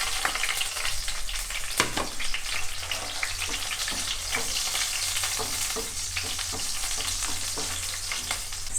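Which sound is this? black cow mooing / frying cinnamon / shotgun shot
frying cinnamon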